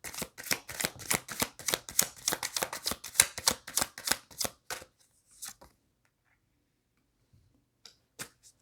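Tarot cards fanned out and spread across a table, giving a rapid run of crisp flicking clicks for several seconds, then quiet with a couple of isolated card snaps near the end.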